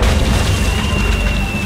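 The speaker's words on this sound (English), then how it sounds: "It's amazing how many of life's problems are solved by indiscriminate cannon fire." A spiffy Hungarian easy-action cannon fires in the Tales of Monkey Island video game, a loud, heavy boom that rumbles on steadily through the whole moment with no voices over it.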